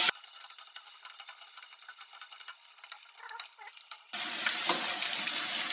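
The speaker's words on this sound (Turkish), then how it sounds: "Salçamızı yakmadan biraz karıştırıp" Tomato paste frying and being stirred in a pan for a lokanta-style İzmir köfte, with faint scraping and soft sizzle that swells into a louder, steady hiss near the end; no talking.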